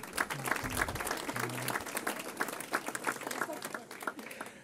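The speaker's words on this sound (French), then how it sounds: "vous pouvez les applaudir" Applause from an audience at a 2013 New Year's political address in Hérault, a dense patter of clapping with a few louder claps near the start, steady throughout with some voices mixed in.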